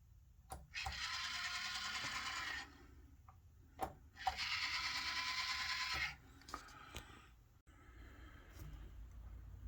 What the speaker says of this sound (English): I have the tortoise machine powered up